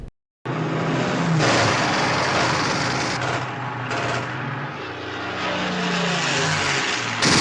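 Droning engines of WW2 warplanes, a Junkers Ju 88 bomber and a Messerschmitt Bf 109 fighter, roaring loud and steady with a throbbing propeller pulse that swells and shifts in pitch as they pass overhead.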